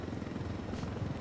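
A helicopter flying in the video game Ghost Recon Wildlands gives a steady, even rotor drone that fills the short moment, heard alone without talk.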